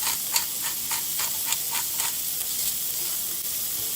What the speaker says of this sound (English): we're just gonna drop our patty right in here